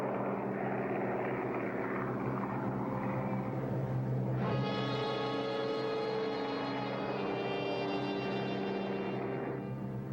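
Japanese propeller warplanes such as Zeros, Vals and Kates fly near the Midway carriers, heard as a steady loud engine drone that swells into a sharper, higher-pitched roar halfway through.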